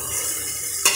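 Spices being stirred into dal in a pot with a spoon, a steady close scraping and sizzling texture for about a second, ending in a brief louder clatter.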